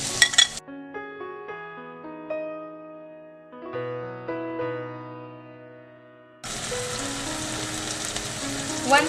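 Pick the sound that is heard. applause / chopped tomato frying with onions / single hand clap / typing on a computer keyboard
chopped tomato frying with onions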